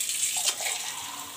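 Hot water runs from a kitchen tap in a steady, close splashing stream, alone without talk.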